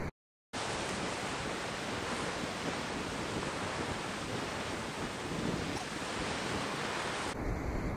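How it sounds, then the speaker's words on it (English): Ocean waves surge against the rocky shore at Peggys Cove, Nova Scotia, as a dense, continuous roar of surf mixed with wind, loud and unbroken after a brief silent start. "There's a lot of drama here with the waves today."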